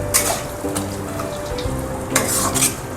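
Ash gourd cooking in fish oil in a pan is stirred with a utensil, giving a few distinct scrapes and clinks over a steady low sizzle, close and moderately loud.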